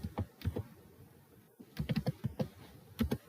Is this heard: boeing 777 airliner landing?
no